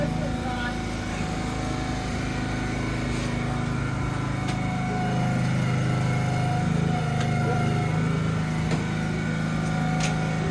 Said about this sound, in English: So these hydraulic pumps pushing up these pistons.